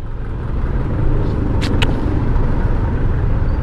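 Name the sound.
road traffic, cars passing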